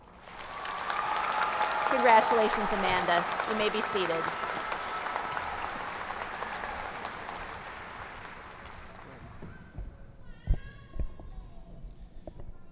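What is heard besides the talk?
audience applause at a commencement ceremony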